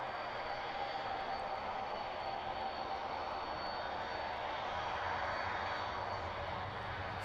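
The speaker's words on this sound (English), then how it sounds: "767 on its way out then." A Boeing 767 jet departs East Midlands Airport, its engines a steady, broad roar heard from a distance, even and sustained throughout with no voices.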